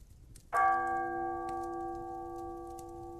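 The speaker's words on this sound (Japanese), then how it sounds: "甲板から鐘の音がまた一つかすかに聞こえました。" A single faint ship's bell strikes once on deck and rings on with a long, sustained, slowly fading tone over a low background hum.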